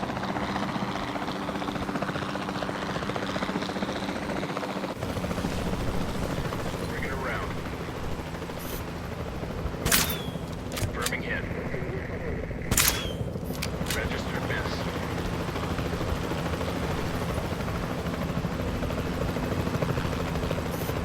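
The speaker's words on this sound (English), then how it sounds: "Then the sensible thing is to take a capture team helicopter." A capture team helicopter in Jurassic World Evolution 2 drones steadily with a throbbing rotor hum throughout, joined by a few sharp dart shots and clicks partway through, while game voices talk over it.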